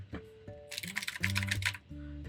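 A lubed, tape-modded mechanical keyboard clacks in a quick close burst of keystrokes, with a steady hum underneath and a voice talking briefly before the typing.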